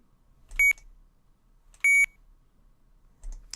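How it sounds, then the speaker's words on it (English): Three short electronic beeps from an OpenTX radio transmitter switch, evenly spaced and fairly loud, with quiet pauses between them. "So those are the 3 different beeps that you hear when I flick SH."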